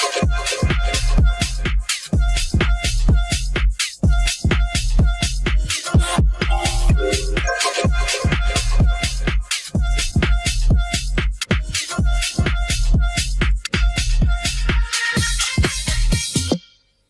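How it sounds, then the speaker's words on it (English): Electronic dance drop with vocal chops pitched up one octave, processed with saturation, EQ and compression, pulsing over a heavy, steady beat with punchy bass, loud and continuous before cutting off at the end. "in this second part of the drop, I put some vocal chops"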